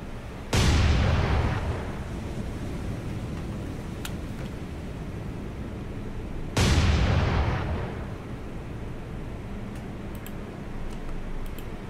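Naval guns in the War on the Sea video game fire starshell rounds: two heavy booms several seconds apart, each with a sharp attack and a long rumbling decay over a low background hum.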